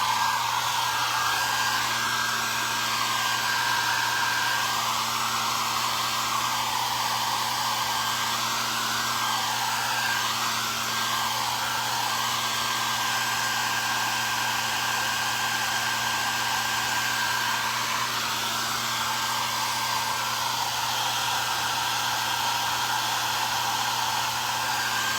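A hair dryer blows steadily to dry paint on a painted wood sign, a loud, close, unbroken whooshing drone with a constant motor whine that runs the whole time with no talk.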